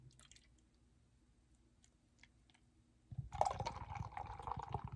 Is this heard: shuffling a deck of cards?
no